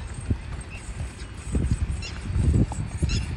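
A mare's hooves beat out a steady, rhythmic clip-clop on hard ground as she moves at a running gait, close and moderately loud against light outdoor background noise.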